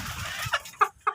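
Domestic chickens on a backyard poultry farm give a few short, clear clucks close by, three distinct bursts following a stretch of softer rustling and low background noise.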